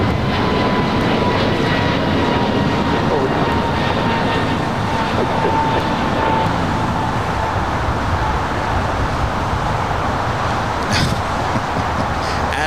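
Jet airliners at LAX airport produce a continuous loud roar of engine noise that swells and fades slightly across the stretch, with faint talk now and then beneath it.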